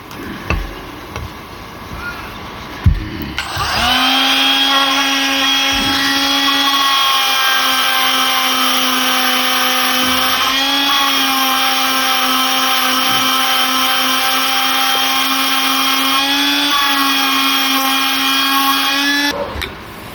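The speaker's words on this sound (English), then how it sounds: "we use the Dremel in this case and clean the top half of it here" A Dremel rotary tool cleans the contacts of a lamp relay with a loud, steady high-pitched whine running about sixteen seconds, dipping briefly midway, after a few clicks and clamp noises.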